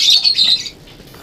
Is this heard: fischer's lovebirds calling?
yes